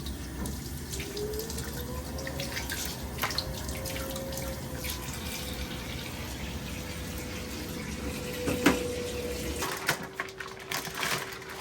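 Tap water runs steadily into a sink while slimy moose meat is washed, a continuous close splashing flow with small clinks, then the water cuts off near the end, leaving a few drips and handling sounds.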